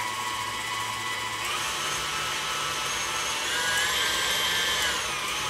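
An electric mixer creams room-temperature butter with granulated sugar for cookies, giving a steady, fairly faint motor whir that shifts pitch slightly partway through, with no talk.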